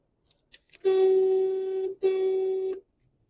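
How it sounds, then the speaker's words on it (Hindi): Two long car horn blasts on a highway, the first about a second long and the second slightly shorter, loud and close with a short gap between. "मैंने पहले ही हॉर्न बजा दिया"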